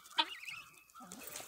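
White hens and a rooster cluck and murmur nearby, a few short squawky calls rising and falling, fairly quiet with no talking.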